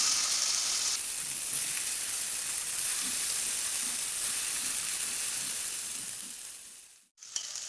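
Chicken 65 pieces frying in hot oil, a loud, steady sizzle and crackle that swells briefly and then fades away near the end, ending in a sudden drop and a short clatter.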